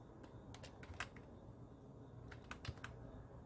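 Keys tap on a computer keyboard, very faint, in a couple of small clusters of quick clicks separated by quiet pauses.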